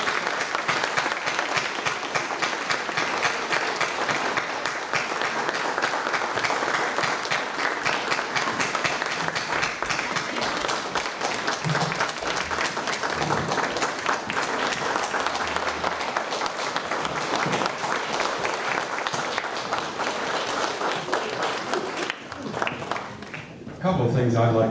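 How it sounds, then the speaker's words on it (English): An audience at an annual meeting applauds steadily for the full stretch, a dense and loud wash of clapping that holds without a break and ends abruptly at the close. "Thank you very much for your applause."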